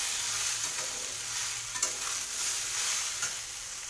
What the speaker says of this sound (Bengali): এবার আমি এক সেম পরিমাণে গাজরগুলো একটু ভেজে নিচ্ছি।